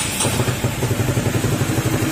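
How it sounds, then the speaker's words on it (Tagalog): A Honda RS150 motorcycle engine, just repaired for a fuel leak, runs at a fast, steady idle with a rapid, even pulse and a rattling mechanical clatter, loud and close, with no talking. "Tapos ngayon, titesting naman natin siyang maandarin."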